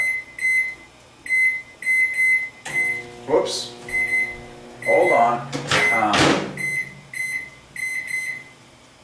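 RCA microwave oven in a home kitchen giving repeated short high beeps in regular bursts, close and clear, with a person talking briefly and a door or cupboard clunking partway through.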